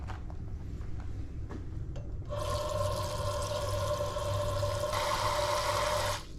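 Water pours into a rock tumbler holding Petoskey stones, spacers and borax, a steady loud splashing rush lasting about four seconds after some quiet handling.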